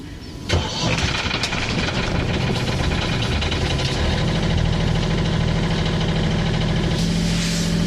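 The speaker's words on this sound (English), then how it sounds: "Alright, starting the engine." A sailing boat's engine cranks and catches, then settles into a steady, loud mechanical idle that runs on evenly, with a faint voice briefly in the background.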